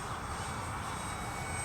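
An FMS PA-18 Super Cub radio-controlled model plane drones steadily overhead on a blustery day, a continuous even electric motor hum with wind noise and no talking.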